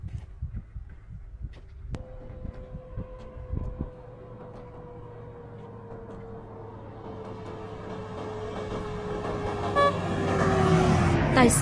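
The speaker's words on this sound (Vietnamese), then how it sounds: "Tài xế bấm còi ra hiệu" A car horn sounds one long steady blast on a mountain road beside a larger highway, with traffic noise and a vehicle approaching and growing louder toward the end.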